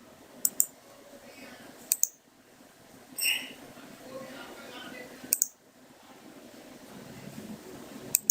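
Sharp, isolated computer mouse clicks while setting up a new project in Visual Basic 6, a few single and double clicks spread apart over a quiet background with faint room noise.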